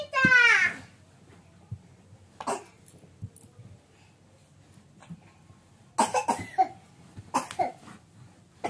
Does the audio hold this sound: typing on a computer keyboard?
no